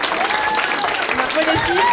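Audience applauding girls who danced at a Christmas show; steady, close clapping fills the whole stretch while a voice calls out over it.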